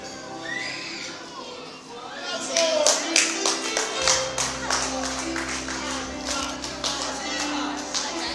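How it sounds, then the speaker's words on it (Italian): Audience applause welcoming guests at an evening entertainment event in Siculiana, Italy, rising from a quieter start into a run of sharp, fairly close claps, with background music and voices underneath. "Anna e Fabio, e accogliamo qui con un applauso"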